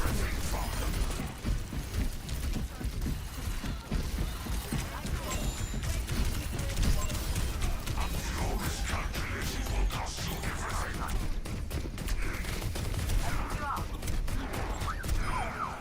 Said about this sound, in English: Damn turrets.